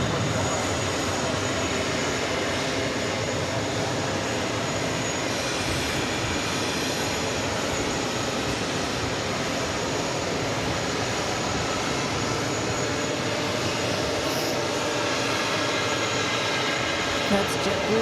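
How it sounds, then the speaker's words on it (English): A JetBlue Airbus A320 in New York Jets livery departs JFK bound for West Palm Beach, its jet engines making a sustained broad roar that holds steady throughout with no clear voices. "That's JetBlue flight 1053 heading off to West Palm Beach, A320"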